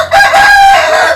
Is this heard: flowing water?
no